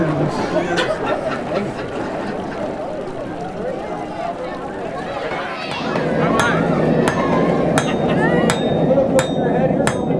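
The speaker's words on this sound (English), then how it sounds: "We're going to be hammering downward right here on the corner, and that's slowly going to form the point of our blade" A blacksmith at a Renaissance festival hammers heated metal to forge the point of a blade, sharp ringing strikes that grow regular toward the end, heard over crowd chatter and nearby talking.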